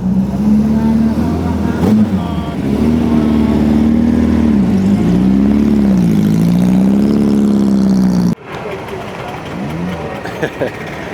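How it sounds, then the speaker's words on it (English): A classic Porsche Speedster's engine runs close and steady, its tone rising and falling with revs for about eight seconds before cutting to a quieter rumble, with voices talking faintly underneath. "Porsche Speedster"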